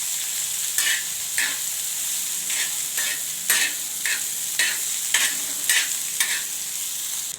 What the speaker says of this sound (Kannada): ಅದನ್ನೊಂದು ಸ್ವಲ್ಪ ಎಣ್ಣೆ ಹಾಕಿ ಸ್ವಲ್ಪ ಚೆಂದ ಬಾಡಿಸ್ಕೋಬೇಕಾಗತ್ತೆ